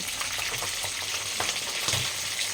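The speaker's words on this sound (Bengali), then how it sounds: "ওটা লাল লাল করে ভেজে রাখছি" Fish frying in hot oil until reddish-brown, a steady close sizzle with soft crackles and a few light stirring clinks, no talk.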